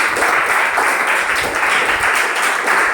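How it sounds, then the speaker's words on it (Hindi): A class of schoolchildren applauds itself in a classroom, producing loud, close, continuous clapping that stays dense and steady from start to finish. "आप लोग अब जरा अपने लिए ताली बजा लीजिए"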